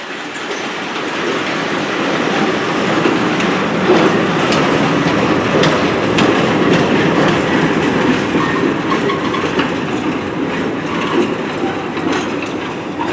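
A cement freight train rolls through Plymouth station, loud and close, with continuous rumble, rhythmic clickety-clack of wagon wheels over rail joints and occasional metallic squeals, steady for the whole stretch.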